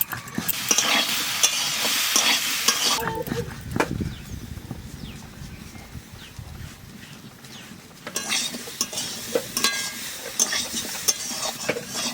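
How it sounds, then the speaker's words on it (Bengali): Potato and green banana pieces fry in a pan while a utensil stirs them, with scraping and clattering over a bright sizzle. The frying is loud at the start and again near the end, with a quieter stretch of stirring in between. "আলুর কলা ভাজা হয়ে গেছে"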